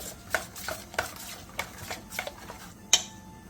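Seasoning sauce of soy sauce, plum extract, oligosaccharide syrup, vinegar and perilla oil being stirred together in a bowl, with a series of light clinks and scrapes of a utensil against the bowl and one sharper ring near the end.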